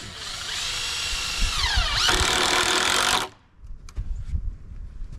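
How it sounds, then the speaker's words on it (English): A power drill drives screws into deck boards, its motor whining steadily and then rising in pitch as the screw seats, loud and close. It cuts off sharply partway through, leaving a few faint knocks. "Two, you put the 3 screws in."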